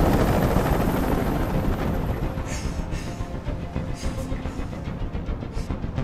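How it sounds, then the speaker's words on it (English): A helicopter in the game Detroit: Become Human drones steadily with a dense, rumbling rotor wash, loud at first and then slightly thinner, continuous with no voices. "Tell that helicopter to get out of here."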